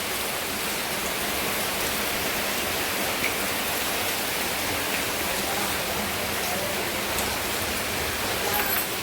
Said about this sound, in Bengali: দেখেন পানি আসছে